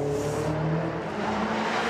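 A car accelerates hard and pulls away, its engine note loud and continuous with a rising, steady roar and no voices over it.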